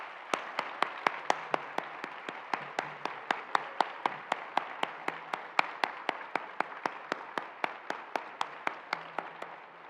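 Audience at an NHTSA Public Service Awards luncheon claps for the honorees: a steady, evenly spaced run of sharp, fairly quiet claps lasting several seconds with no talking.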